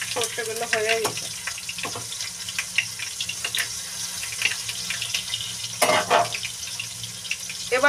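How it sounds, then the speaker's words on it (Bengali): Mustard seeds crackling and spitting in hot oil in a home kitchen, scattered sharp pops over a steady sizzle, with a few louder bursts and some clatter close by. "দেখো চড়বড় করে কিন্তু ফুটছে সর্ষেগুলো"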